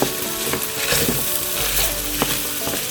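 Scallions sizzling and being stirred in a hot pan for Zuppa Toscana, a steady loud frying hiss broken by a few scraping strokes, close up with no voices.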